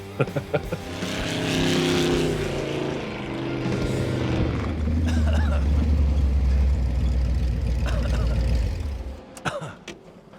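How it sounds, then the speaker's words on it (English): A desert roadster built on a Ranger chassis revs hard with a loud, raspy exhaust note, rising in pitch and growling close up, then cutting off with a few pops. "The sound of the exhaust right there in stereo, pure adrenaline rush."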